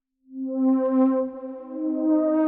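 Synth voice with a polymer-style patch and light reverb, played on a keyboard in Bitwig: a sustained, harmonically rich held tone swelling in after a brief silence, steady and close with a slight dip midway.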